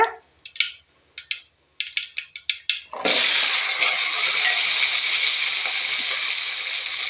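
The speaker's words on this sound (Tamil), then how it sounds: "வெங்காயம் இப்போ வதங்கட்டுங்க." Shallots tossed into hot oil with mustard seeds that have already popped: a few sharp seed pops and crackles come first, then a loud, steady broadband sizzle of frying takes over and holds to the end.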